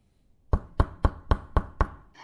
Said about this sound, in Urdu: دروازے پر دستک ہوئی